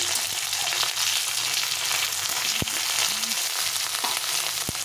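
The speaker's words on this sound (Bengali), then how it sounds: "এখন আমি যে লঙ্কা চিড়ে নিয়েছি, চার পাঁচটা লঙ্কাগুলো চিড়ে দিয়ে দিলাম। এটাকে একটু ভেজে নিতে হবে।" Four or five slit green chillies fry in hot oil, giving a continuous close sizzle with a soft hiss and occasional sharp pops and light clinks from the pan, with no voices.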